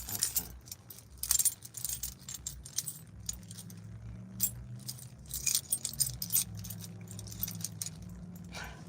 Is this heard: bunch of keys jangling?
yes